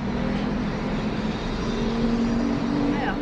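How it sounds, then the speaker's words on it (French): Road traffic goes past outside in a continuous washing roar, steady and moderately loud, with no voices on top. "il y a des voitures qui passent, il y a des travaux"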